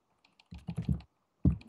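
Quick bursts of computer keyboard typing, a few soft taps followed by a rapid cluster of close keystrokes and then another short burst, with no voices over them.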